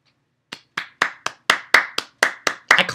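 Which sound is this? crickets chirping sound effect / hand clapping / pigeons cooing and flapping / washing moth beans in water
hand clapping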